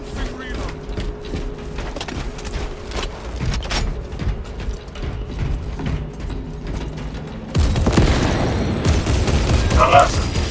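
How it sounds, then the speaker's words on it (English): A weapon reload in the video game Warhammer 40K Space Marine 2 produces clattering mechanical clicks and ratchet-like snaps, followed by a denser burst of metallic activity amid busy game noise. "Commencing reload."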